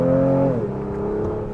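The engine of a 2025 Honda Pilot Elite SUV accelerates hard, a loud, close drone that drops sharply in pitch midway, as if shifting gear, over a short span.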